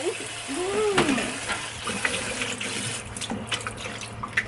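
Tap water runs steadily into a sink as limes are rinsed, a close splashing wash with small knocks and clatter, while voices talk faintly in the background.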